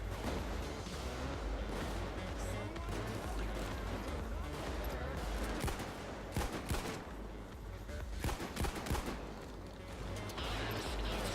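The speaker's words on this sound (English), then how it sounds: "I see them aiming and shooting at something, but I don't know what" Sustained gunfire from enemies in the video game Payday 2, dense and continuous with sharp cracks scattered through a constant roar of shooting and game noise, with no talk.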